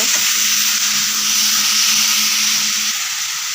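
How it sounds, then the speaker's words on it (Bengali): Taro stolons and shrimp fry in a pan, making a loud, steady, bright hiss of sizzling oil close up, with a faint low hum underneath and no voices. "এবার নাড়াচাড়া করতে থাকবো"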